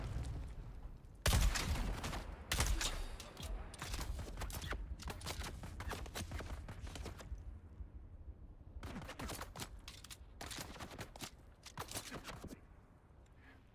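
Gunfire in the game Dune Awakening comes in clusters of sharp shots separated by brief quiet gaps, fairly close and fading toward the end.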